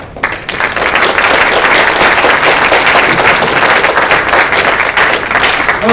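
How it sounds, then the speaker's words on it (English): Loud, sustained applause from an audience at a business plan competition, steady dense clapping throughout with no break. "Let's give all of our students a round of applause."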